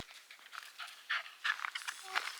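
Dogs panting out on a hiking trail in a national park, quick breathy bursts coming in uneven clusters at close range, fairly faint, with a few soft whimpery sounds mixed in.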